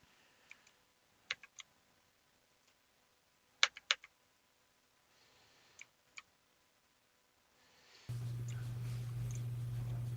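Keyboard typing in a Second Life book club session: a few scattered clusters of soft key clicks, faint and sparse, before a sudden steady hum takes over near the end.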